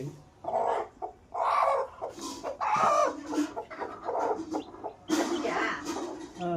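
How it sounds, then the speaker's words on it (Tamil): Chickens cluck and squawk in irregular bursts close by, with a brief crowing-like call near the end. "ஒரு கோழி கொஞ்சம் பொரிச்சிருக்கு"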